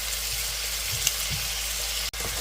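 Chinese food with soy sauce stir-fries in a hot pan, a continuous loud sizzle with a few soft stirring scrapes and a brief click partway through.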